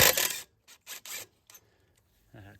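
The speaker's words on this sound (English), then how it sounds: "The hex bolt comes right out" A hex bolt, lightly coated with Loctite, is pulled from a 2019-2026 Chevrolet Silverado rear brake caliper, producing a few short close metallic scrapes and clicks separated by silence.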